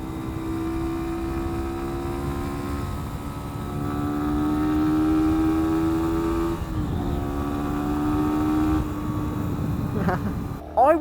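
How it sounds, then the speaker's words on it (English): Sinnis SM-R 125cc motorcycle engine straining up a hill on a hot country road, a steady droning buzz whose pitch slowly rises and dips with gear changes, heard close under wind noise. "Come on, you plucky little bike, get up the hill."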